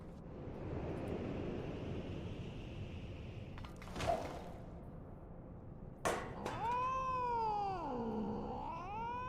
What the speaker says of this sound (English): The cat is gonna eat it.